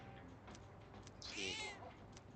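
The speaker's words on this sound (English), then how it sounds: "She's purring happily." A pet cat in a Persona video game gives a single soft meow midway through, heard faintly over a low, quiet background.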